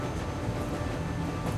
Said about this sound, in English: We need to stop this train.